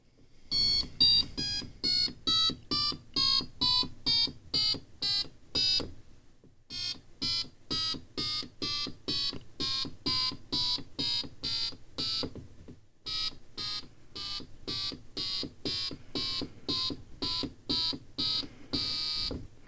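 Rhythmic, buzzy synthesized square-wave tones from an Atari Punk Console synth pulsing in quick repeated bursts, stepping between pitches, with two brief pauses, loud and electronic.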